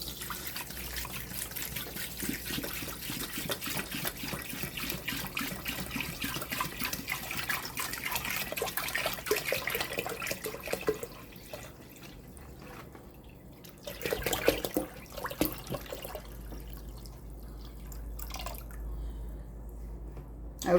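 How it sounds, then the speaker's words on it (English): Water pours steadily from a gallon jug into a pot of turkey tails and a turkey neck for homemade broth, a continuous close splashing trickle that thins and becomes intermittent toward the end. "Now I'm going to be putting in a gallon jug of water"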